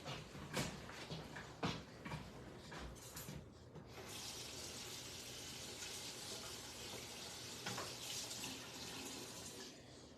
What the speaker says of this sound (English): Just run some water over it.